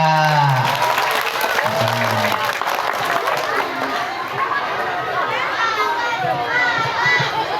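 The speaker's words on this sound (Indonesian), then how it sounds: "Ya tepuk tangan buat mereka berdua." Schoolchildren at an elementary school clap for two classmates, a dense, lively patter mixed with excited children's chatter and shouting voices throughout, fairly close and loud.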